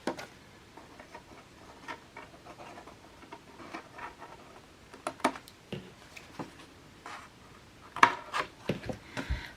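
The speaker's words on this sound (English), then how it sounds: "So just cut that triangle out." Scissors snip a triangle out of a handmade paper Christmas card with faint, irregular clicks and cuts that grow sharper and closer toward the end, in a quiet room with no talk.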